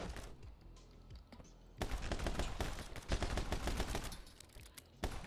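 Rapid bursts of gunfire from the action video game My Friend Pedro, dense crackling volleys that start sparse and turn into near-continuous shooting after the first couple of seconds, fairly loud with no talk over it.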